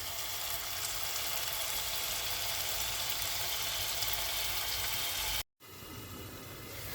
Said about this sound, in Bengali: কষায় নিব যেন টমেটোটা একদম আলোয় যায়